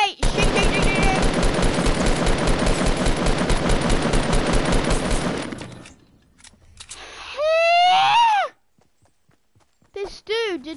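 Rapid automatic gunfire in the Fortnite battle royale video game, loud and sustained for several seconds, then a pause followed by short bursts of electronic game effects with swooping tones.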